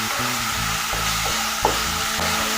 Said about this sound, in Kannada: ಜೀರಿಗೆ ಕಾಳು ಮೆಣಸು ಪುಡಿ ಮತ್ತು ಬೆಲ್ಲ, ಹುಣಸೆ ಹುಳಿ 3 ಹಾಕಿ ಫ್ರೈ ಮಾಡ್ಕೊಳ್ತಾ ಇದ್ದೀನಿ